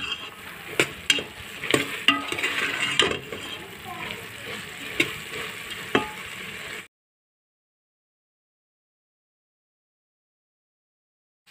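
Black chickpeas crackle and sizzle as they fry in a spoonful of cooking oil, with sharp pops and stirring scrapes over a steady hiss for several seconds before cutting to silence.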